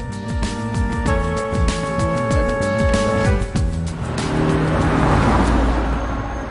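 A car drives along, its engine loud and close with a steady droning hum that swells as it moves, no voices present.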